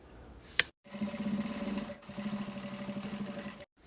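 A sewing machine stitches along the edge of a fabric lunch bag in two quick runs of rapid, even mechanical chatter close by, with brief pauses and a click between.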